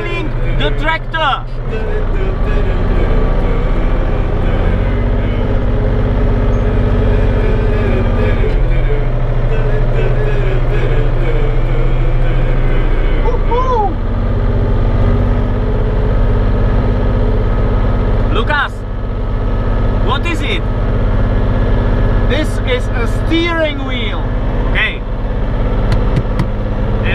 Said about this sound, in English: We are driving the tractor.